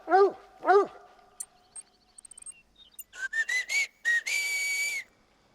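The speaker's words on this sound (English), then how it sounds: "Now the whistling and the dog barking and stuff" In the hunting game theHunter Call of the Wild, two short barks open, followed by a run of quick clicks and then a series of rising whistle notes ending in one long sustained whistle, clear and close, no talking.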